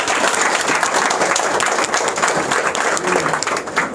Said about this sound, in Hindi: ऐसे ग्रेट सेम डे के लिए पुनः एक बार जोरदार तालियां।